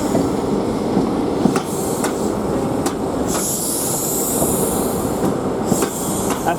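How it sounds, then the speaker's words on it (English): An LNER train pulling out of London King's Cross bound for Inverness, a loud close rumble of rolling wagons with repeated clicking wheel beats and a high wheel squeal partway through, no voices. "There goes the Inverness train."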